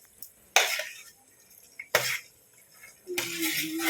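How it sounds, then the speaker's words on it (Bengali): Pieces of chicken meat are dropped into fried masala in a pot, giving three separate loud sizzling bursts, the last one settling into a steady frying hiss. "এখন দিয়ে দিচ্ছি মাংস।"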